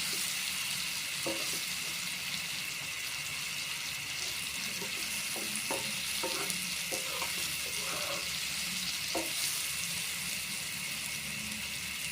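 Rohu fish frying in a pan as a faint, steady hiss with scattered soft taps and stirring clicks, running alone throughout.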